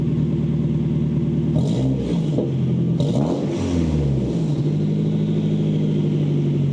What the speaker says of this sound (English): Alright, I'll give it a tap. Let's see how it sounds revved.